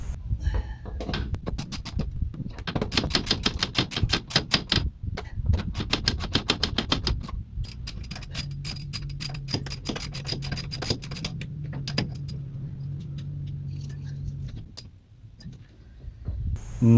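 Nut being tightened by hand on a 1968 Dodge Charger barn find: rapid clicking ratchet bursts and metallic scraping up close, followed by a quieter low hum.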